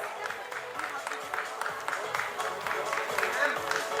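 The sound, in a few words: audience applause at a ceremony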